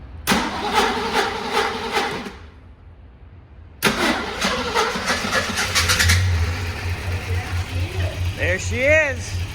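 A 1958 Studebaker Golden Hawk engine cranks with a rapid rhythmic starter whir, pauses, then cranks again and catches into a rough idle, close by, with people talking over the running engine.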